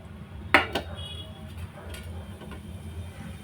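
Chana dal and urad dal tipped into oil in a cooking pan: two quick clinks of a utensil against the pan up front, then a low, steady background with no talk.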